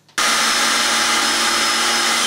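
A power drill drives a screw into a wall while mounting heavy metal home gym equipment: a sudden loud, steady high whine starts abruptly after a brief quiet moment and holds without pause.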